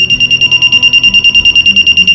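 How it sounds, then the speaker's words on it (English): A buzzer on an eyeblink accident detector sounds loudly and close up, a shrill high-pitched beeping pulsing rapidly and evenly without pause. "then the buzzer will activate."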